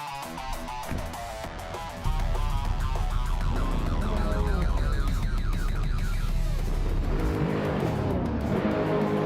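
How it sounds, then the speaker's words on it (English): Race cars in a video game, among them a 2012 Ford Focus RS, roar off the start line together, a loud sustained engine drone with rising and falling pitch sweeps from several cars, no talking. "Jordan F is leading the pack at the start and he's in a 2012 Ford Focus RS"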